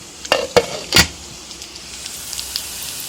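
Onion and garlic sautéing in a pan for garlic thokku: three quick metallic clinks of stirring up front, then a faint, steady sizzle that carries on alone.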